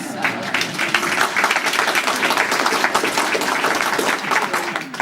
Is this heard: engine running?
no